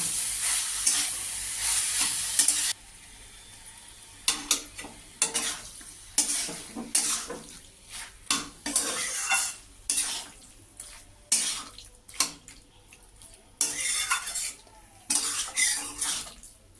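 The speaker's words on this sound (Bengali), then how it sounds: "পোস্ত দিয়ে কিছুক্ষণ আমি আর একটু কষাবো" Pumpkin stems with poppy seeds sauté in a pan under a low sizzle, as a spatula stirs and scrapes in repeated rhythmic strokes, close and moderately loud.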